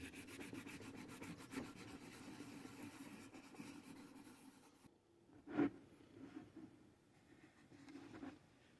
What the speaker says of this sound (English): I'm repeating the sanding on the ear tips here, just enough sanding to get rid of that roughness.